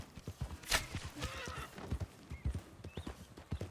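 Horse hooves clip-clop in an uneven gallop rhythm in Red Dead Redemption 2, with a loud whinny early on and a few squealing calls, the hoofbeats continuing close and steady throughout.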